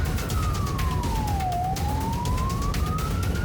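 A police car siren wails during a high-speed pursuit, its pitch sliding down and then back up in a long sweep, loud and continuous over rumbling traffic noise.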